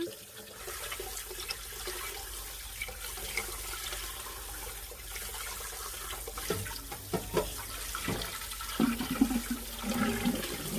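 Four pieces of dried kelp are rinsed under a running kitchen tap for the broth of a seaweed and oyster rice cake soup. The water flows steadily and close, with splashes and handling sounds growing toward the end. No voices.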